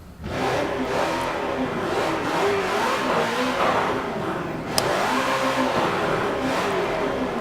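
Forza 7 race car in a video game starts up and revs continuously, a loud, steady engine roar with rising and falling pitch sweeps and a brief sharp click near the middle, no voices.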